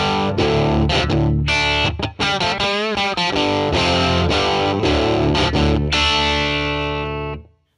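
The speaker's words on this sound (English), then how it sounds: "Les Paul into that 10-inch solid-state Marshall combo and the Imperial set for" A Les Paul electric guitar played through a 10-inch solid-state Marshall combo on a clean setting, loud strummed chords and bent single notes with a sustained ringing tail that fades at the end.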